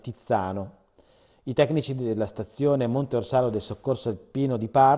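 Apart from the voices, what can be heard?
None of the usual background noises is heard.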